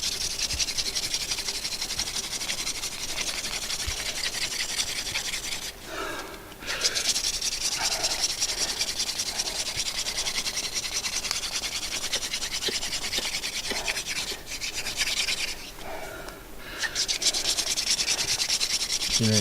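Steady wooden spindle being drilled against a board for friction fire-making outdoors, a continuous loud rasping rub that runs almost unbroken, with two brief pauses where the motion stops and restarts.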